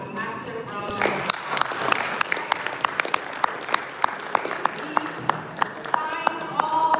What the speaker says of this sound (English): Find all the applause you can, and please let us give it to him.